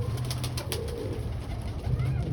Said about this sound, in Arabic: في حمام ياما طاير جنبي